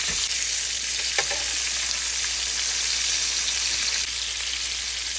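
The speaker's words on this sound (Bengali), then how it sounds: "তো আমি এটা হলুদ লবণ দিয়ে একটু মেখে তারপর তেলে ভেজে ফ্রাই করে নেব" Fish pieces, rubbed with turmeric and salt, sizzle and spit steadily in a pan of hot oil, a dense continuous crackle close up with no talking.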